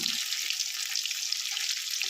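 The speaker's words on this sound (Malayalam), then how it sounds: "ഇനി ബാക്കിയിരിക്കുന്ന ചിക്കൻ കൂടി അതുപോലെ നമുക്ക് വറുത്തെടുക്കാം" Steady, dense sizzling of chicken frying in hot oil, close and continuous, with no voices.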